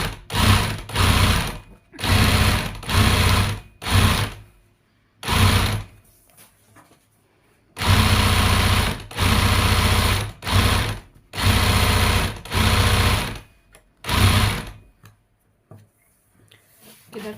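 Sewing machine zigzag stitching cord to build a tissue box, running in loud, close bursts of rapid mechanical chatter separated by short pauses, with no talking.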